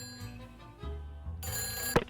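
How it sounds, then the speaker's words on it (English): A telephone rings in the Nancy Drew: The Phantom of Venice video game, a bright bell-like ring entering over game background tones and ending in a sharp burst. "Phone is ringing."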